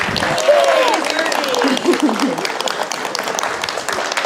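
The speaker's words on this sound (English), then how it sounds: "Round of applause for Miss Birdie." An audience at a guide dog graduation claps for a dog named Miss Birdie, steady applause throughout with a voice speaking briefly over it near the start.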